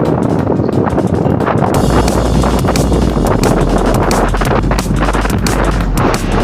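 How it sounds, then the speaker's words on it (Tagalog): Strong wind at the end of a pier by the sea buffets the microphone in a loud, continuous roar with gusty rumbling, alone without talk. "Mahangin po dito at malakas ang ihip ng hangin, kaya meron mga alon."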